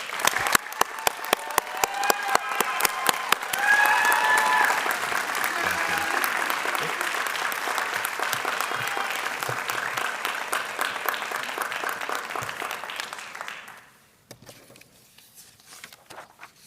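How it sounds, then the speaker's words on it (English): An audience applauds graduates at a Fort Leavenworth graduation ceremony, opening with a few sharp individual claps before swelling into long, dense clapping that cuts off abruptly, leaving a quiet room with faint movement. "Let's give these graduates a round of applause."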